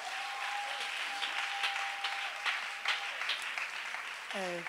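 A church congregation clapping to praise the Lord, sustained lively applause with scattered louder claps and voices mixed in, a brief tonal note running beneath.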